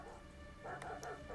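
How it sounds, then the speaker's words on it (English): Dogs barking in Detroit: Become Human, two or three short, faint yips at a distance over a low steady background hum. "So we got some dogs here."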